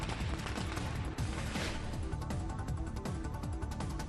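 Fireworks crackle and bang continuously outside a residence as a crowd of party workers celebrates, dense overlapping bursts and pops filling the whole stretch at steady loudness.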